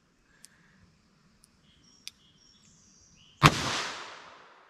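A single sharp, loud gunshot from a .38 Super Police pistol with a 4-inch barrel, its report decaying over about a second, preceded by a few faint scattered clicks.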